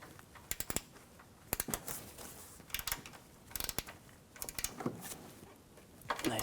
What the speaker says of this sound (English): Tighten the lower bolts.